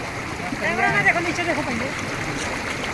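Continuous rushing roar of water pouring through the open gates of Haluvagilu dam in Hassan, loud and steady, with a person talking briefly over it.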